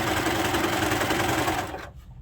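A sewing machine stitches pockets onto a cardigan, its needle whirring in a fast, steady buzz at close range before it stops abruptly near the end.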